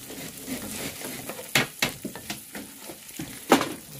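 Rice searing in chicken juice in a pan while being stirred: a low continuous sizzle, with several sharp scraping and clinking stirring hits near at hand and no talk.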